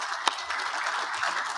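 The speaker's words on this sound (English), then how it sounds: "Give her a round of applause." A brief burst of audience applause rises at a public water-project event featuring a U.S. senator, a soft continuous patter of many hands with one sharp clap standing out near the start.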